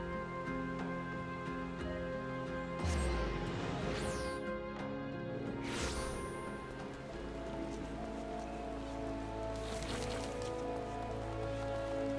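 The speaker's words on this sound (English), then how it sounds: "Oh man, I hate the rain." Steady rainfall in the Final Fantasy XIV video game, a soft continuous patter of drops on surfaces mixed under game music and a few passing effects.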